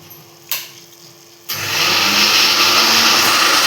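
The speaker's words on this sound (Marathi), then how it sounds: "ते मिक्सर लावून घेऊया. ह्याच्यात आपण वाटण बनवून घेऊया आता." A mixer grinder blends a spice paste with cumin and turmeric; after a short knock it switches on partway through and settles into a loud, steady, close-up whirring grind.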